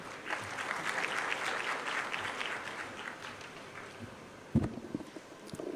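Audience applause at an investment conference, a sustained crowd clapping that rises early then gradually thins, with a sharp knock and some handling noise near the end.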